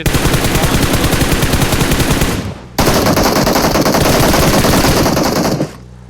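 Automatic gunfire from the video game PUBG Mobile, loud, dense rapid bursts filling the whole stretch, broken by one brief pause before a second long burst that cuts off near the end.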